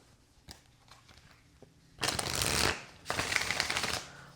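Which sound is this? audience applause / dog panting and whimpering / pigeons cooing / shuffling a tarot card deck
shuffling a tarot card deck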